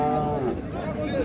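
A Shahiwal calf at a busy cattle market gives one short, low moo up close, with the crowd murmuring in the background.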